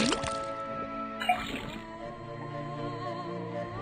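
A tapped faucet in the Detective Grimoire video game lets out a few bright watery drip and gurgle tones over soft game music, close and clean, with no talk.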